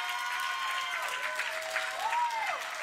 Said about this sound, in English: Give the musicians a hand clap of praise.